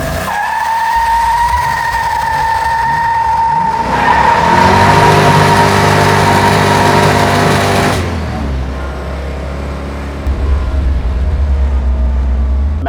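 A Plymouth Cuda with a 426 Hemi V8 on decent tires accelerates hard, its loud close engine note climbing and surging at part throttle, then easing off before a second rising pull near the end; no talk.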